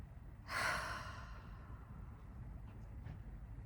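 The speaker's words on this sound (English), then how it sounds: "Just gonna take a deep breath." A single deep breath drawn in near the microphone, a soft airy rush that swells for about half a second and fades, then quiet low room hum and a couple of faint later breaths.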